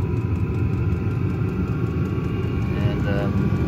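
A Chinese diesel air heater runs inside a Cat skid steer, giving a steady, close mechanical hum with low rumbling that stays constant for a few seconds.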